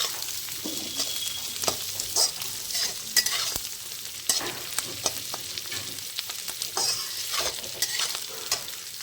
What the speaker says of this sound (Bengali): পেঁয়াজটা একটু ভাজা হয়ে গেলে